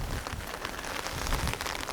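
Late winter rain falls in drought-stricken Boryeong, South Chungcheong, a soft broadband hiss of steady rainfall with scattered drop patter, faint and uniform throughout with no voices.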